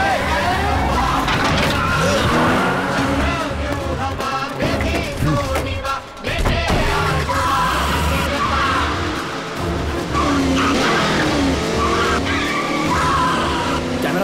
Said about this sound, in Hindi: गाड़ी स्टार्ट कर। चल।